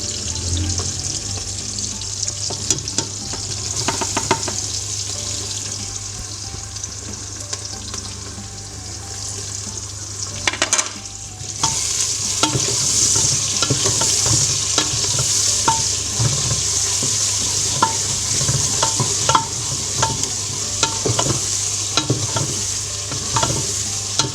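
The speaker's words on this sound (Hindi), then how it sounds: "अब साथ ही ये टमाटर और अदरक लहसुन का पेस्ट डाल देते हैं।" Tomato and ginger-garlic paste frying in a pan for a cauliflower and meat curry, a loud close sizzle that swells into a brighter, hissier fry partway through, with clinks of stirring and no voices.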